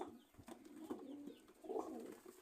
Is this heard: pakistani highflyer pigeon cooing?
yes